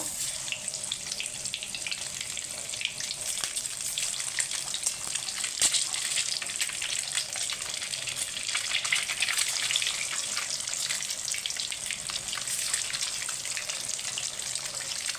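Eggs frying in oil in a pan, a dense steady hiss and crackle that stays loud and close for the whole stretch, with no voices.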